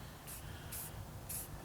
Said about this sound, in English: I'm going to take some of this white spray paint I got here.